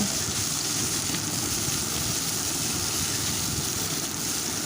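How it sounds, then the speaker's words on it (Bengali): Cauliflower pieces fry in hot oil for a curry, giving a continuous, dense sizzle and crackle, loud and close throughout, with no voices. "এখন আমি কপিগুলো দিয়ে দিচ্ছি। কপিগুলো ভালো করে লাল করে আমি ভেজে নেব।"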